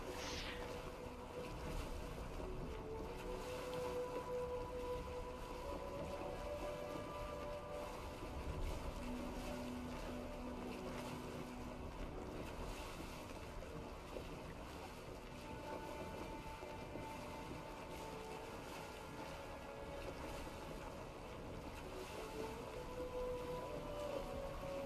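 A boat accelerating in the Assassin's Creed Origins video game: a steady engine drone over rushing water and wind, continuous and moderately loud.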